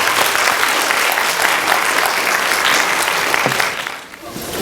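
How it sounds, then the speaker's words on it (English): Audience at an elementary school district literacy competition applauding second graders, a dense sustained wash of clapping from a crowd that thins slightly near the end. "Let's give those amazing second graders another round of applause."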